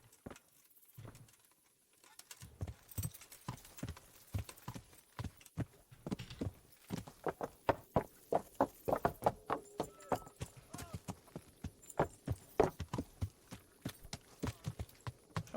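Steady clip-clopping of horse hooves in the video game Kingdom Come: Deliverance, many quick rhythmic knocks close by, building from a sparse start into a continuous trot.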